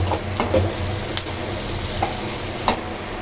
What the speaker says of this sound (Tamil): இப்போ வந்து நம்ம இஞ்சி பூண்டையும் போட்டுடலாம் அதுவும் கொஞ்சம் வதக்கிக்கலாம்